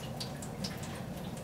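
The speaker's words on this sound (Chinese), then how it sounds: "那水龙头漏水漏得超严重的" A leaking faucet drips water in a room, with faint, scattered taps over a steady low background hiss and no clear regular rhythm.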